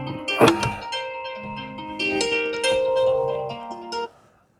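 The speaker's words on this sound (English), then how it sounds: "And there goes my phone again." A mobile phone ringtone plays nearby inside a Range Rover L405, a clear melodic tune of sustained tones that runs about four seconds and stops abruptly, with no talking over it.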